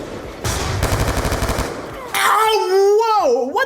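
Rapid machine-gun fire in the video game Black Ops 2, a loud sustained burst followed by an excited voice shouting over the game audio.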